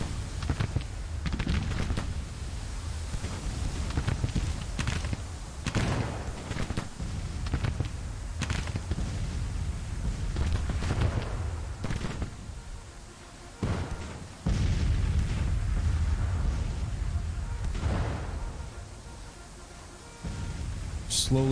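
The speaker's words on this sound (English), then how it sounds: "Artillery's taking a beating from enemy counter battery fire." Enemy counter-battery artillery fire in Grand Tactician, a Civil War strategy game: repeated booming cannon impacts at irregular intervals over rumbling battle noise, with a voice talking throughout.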